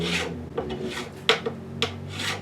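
A crowning file is drawn over the frets of a Gibson Custom Shop guitar, giving several close, rasping strokes in an uneven rhythm with small metallic clicks between them.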